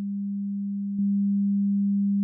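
Steady pure sine wave tone made by summing an identical copy, doubling its amplitude, held continuously with a single brief click partway through as the level steps up.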